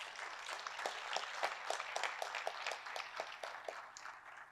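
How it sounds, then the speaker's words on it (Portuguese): A congregation claps together during a Portuguese-language family church service, a steady dense patter of many hands heard at a moderate distance, with no voices over it. "Você pode dar uma salva de palmas a esse Deus?"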